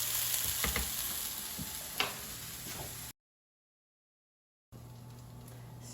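Sliced leeks sauté in a pan over medium heat with a soft, steady sizzle and occasional stirring scrapes. The sound cuts out to silence partway through and then resumes.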